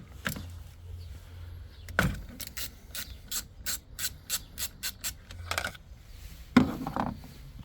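A ratchet wrench fitted with a 12 mm socket works on the positive terminal of a Toyota C-HR Hybrid 12V battery, giving a rapid series of sharp clicks in short bursts, close and clear with brief pauses.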